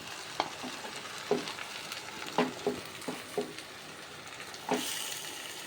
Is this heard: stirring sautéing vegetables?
yes